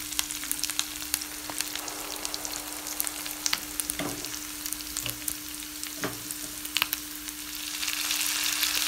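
Chopped tomatoes and onions frying in a pan, giving a soft, continuous sizzle with scattered crackles and a few utensil scrapes and taps, and no voices.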